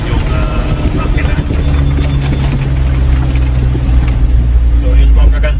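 A 2024 Mitsubishi L300 van with a five-speed manual runs in low gear downhill, a steady, loud engine drone with a low hum and rumble throughout, with no voices.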